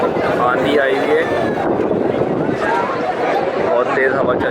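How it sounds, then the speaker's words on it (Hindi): A strong windstorm roars steadily and unbroken in Makkah, a loud gusting rush with voices faintly mixed in beneath it. "बहुत तेज़ हवा चल रही है"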